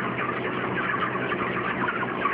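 Many chickens crowded into a large broiler shed chirp without pause, a dense, steady layer of overlapping high chatter close by, with no talking.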